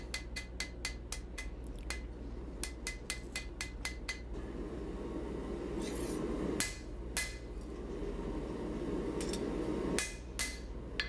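A hammer forges a leaf spring into a Bowie knife, ringing out in sharp metallic strikes: quick rhythmic runs of blows, then pauses and scattered heavier hits over a low background rumble.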